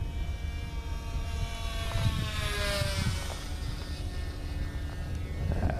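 A Guillows P-40 radio-controlled model plane makes a high-speed flyby, its electric motor and propeller giving a faint, rising and falling whine that sweeps past against steady outdoor wind noise.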